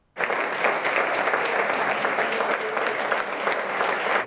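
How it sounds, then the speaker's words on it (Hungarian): Concert audience in Kazincbarcika bursts into loud, dense applause for a singer-guitarist after an acoustic solo evening, the clapping starting abruptly and holding strong and steady throughout. "Ilyen nagy tapsal fogadta a kazincbarcikai közönség az énekes gitáros zenészt."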